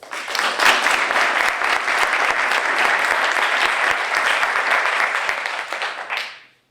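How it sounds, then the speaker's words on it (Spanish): An audience at a local history lecture in Alhaurín applauds an archaeologist, a full, continuous round of clapping that swells quickly, holds steadily for several seconds, then fades out. "un aplauso para él"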